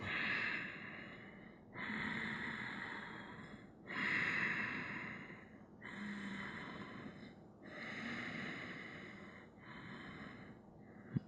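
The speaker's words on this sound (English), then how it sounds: "Audible breath, good." Audible breathing during a yoga session for herniated-disc relief: slow, steady breaths, each inhale and exhale a broad airy whoosh about two seconds long, repeating in an even rhythm close to the listener with no talking.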